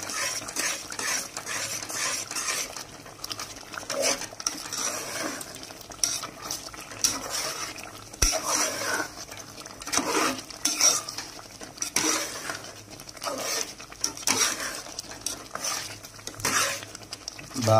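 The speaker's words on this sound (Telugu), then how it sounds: "బాగా కలిపేసుకోవాలి." Spoon scraping and stirring through a pot as mustard powder is mixed into a simmering tamarind mixture for pulihora, with steady clinks and scrapes of utensil against metal and faint sizzling.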